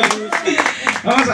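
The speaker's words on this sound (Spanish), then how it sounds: "¡Fuerte el aplauso!" Audience applause breaks out at a live Spanish-language comedy show, clapping loud and close, with voices mixed into it.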